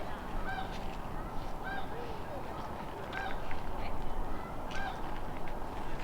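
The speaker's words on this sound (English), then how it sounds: "begging call, where they just screech into the air" A peregrine falcon gives repeated shrill begging screeches at an even pace, fairly close, over a constant rushing background noise.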